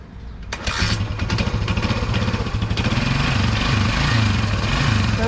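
A 1976 Honda XL175 motorcycle, unused since the previous year, kicks once and catches right away, settling into a steady, close, loud single-cylinder idle that runs on without interruption.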